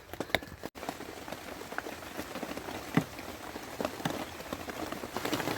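Rain patters steadily on leaves and the ground in autumn woodland, a dense, even hiss of drops with a few sharper taps standing out, heard close and alone without voices.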